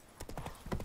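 Horse hooves clip-clopping in The Witcher 3, a quick run of hoof strikes at trotting pace, close and fairly loud, alone.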